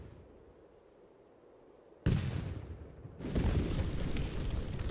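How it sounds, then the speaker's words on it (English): Portuguese cannons fire in the video game Age of Empires II, two loud booming blasts about a second apart rising out of a quiet background, each leaving a rumbling tail. "Portuguese cannons indeed are quite powerful."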